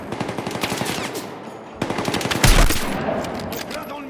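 Heavy machine gun fire in the Battlefield 6 video game: rapid, loud bursts stutter through the first half, pause, then resume with a booming impact and dense firing, set against constant battle noise.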